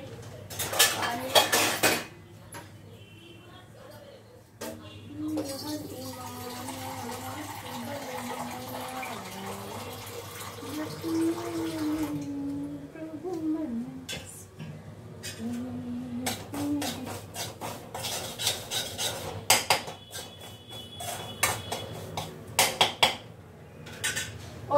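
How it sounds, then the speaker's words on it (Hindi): Semolina roasting for halwa in a home kitchen pan, with steady metal utensils clattering and scraping against the pan, plus bursts of running water and dish sounds, continuous and close, with no talking. "भून लेते हैं इसको फटाफट।"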